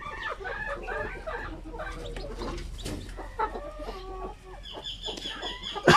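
Pure native Zampen chickens clucking and chattering steadily at close range, with a louder squawk near the end.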